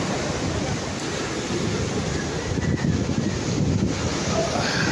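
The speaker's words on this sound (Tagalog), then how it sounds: "Lakas na ng alon." Strong ocean waves surge and wash along a shoreline in a steady, loud roar, with wind buffeting the microphone throughout and no clear speech.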